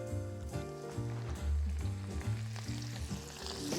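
Salt and pepper squid dropped into hot oil sets off a loud, bubbling sizzle of frying with crackling spatter, heard close up under a low background hum and accompanied by faint music.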